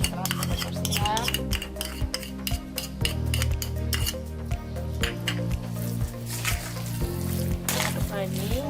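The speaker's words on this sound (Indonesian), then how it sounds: "Aduk lagi." Oyster sauce is being stirred into shrimp and mustard greens in a pan, with a utensil scraping and clinking against the metal in quick repeated strokes and wet squishing underneath, loud and close, while a voice talks over it.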